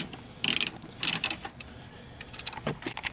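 Ratchet wrench tightening seat bolts on a GM/Chevy vehicle, a few short bursts of rapid pawl clicking, close and moderately quiet, with pauses between.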